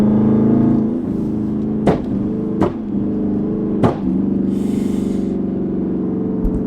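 A Dodge Charger R/T with a flame and burble exhaust tune idles with a loud, steady, close rumble, broken by three sharp exhaust pops spaced a second or so apart.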